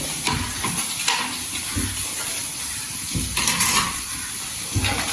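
Anchovies frying in hot oil give off a continuous, fairly loud crackling sizzle with a few sharper pops and bubbly surges throughout.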